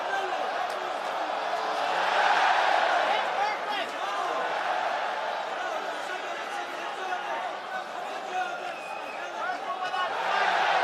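Arena crowd at the Coca-Cola Arena during an MMA bout between Usman Nurmagomedov and Paul Hughes, a dense, continuous roar that swells and eases, with commentators talking over it throughout.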